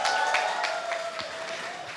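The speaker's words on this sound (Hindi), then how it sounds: "इसके लिए जोरदार ताली होनी चाहिए." Audience applause in a cinema at a Pathaan screening, a steady wash of many hands clapping with scattered sharper claps, fairly loud and continuous, with a faint tone running underneath.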